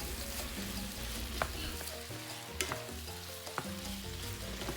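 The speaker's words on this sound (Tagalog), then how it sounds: "Stir them well." Seared beef, mushrooms and tomato paste sizzle in a pot while being stirred, a steady close frying hiss broken by a few sharp scrapes and clinks of the spoon.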